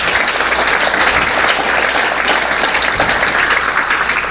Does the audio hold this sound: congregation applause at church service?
yes